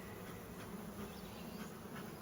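A dense, steady buzz of many honeybees in a hive box close by, a continuous low hum with no other sounds.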